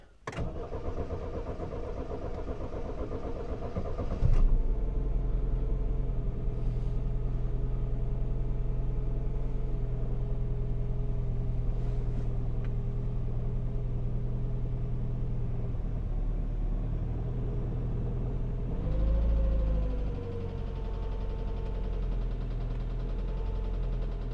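A car engine cranks briefly, catches and settles into a steady low idle, rumbling on for a long stretch with a short rev-like swell near the end; the engine was checked for a misfire before starting.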